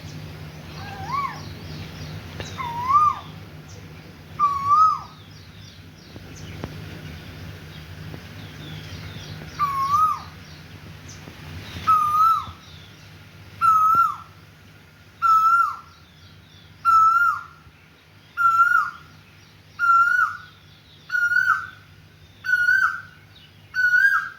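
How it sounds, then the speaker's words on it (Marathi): An Asian koel perched in a tamarind tree repeats a rising whistled call again and again, faint at first and then growing louder and more regular, with quiet background hum. "मस्त कोकिळ पक्षी बसलेला आहे"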